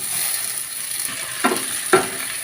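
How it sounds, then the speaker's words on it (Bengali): Potatoes frying in hot oil in a wok make a continuous soft sizzle, broken by two short bright bursts as more pieces hit the oil, with no voices. "এবার আলুগুলো ভেজে নেব"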